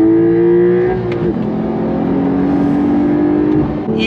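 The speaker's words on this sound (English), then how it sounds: "This is a second gear roll from about 40. On throttle, here we go." A 2023 Porsche 911 Carrera T pulls hard in second gear from a roll, its engine note climbing loud and steady inside the cabin, then easing off briefly near the end.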